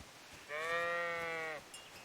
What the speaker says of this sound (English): The goats. Sorry,